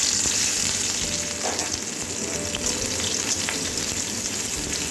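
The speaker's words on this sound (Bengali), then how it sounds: "এবারে পেঁয়াজটা একটু ভেজে নেব।" Onions sizzle in a pan of oil after chilies were fried, making a dense, continuous crackling fry that holds steady throughout with no voices.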